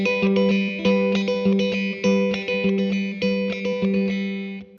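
An electric guitar with a clean, effects-processed tone plays a fingerpicking pattern with thumb and index finger, alternating a repeating bass note with brushed down and up strums in a steady rhythm, up close and alone.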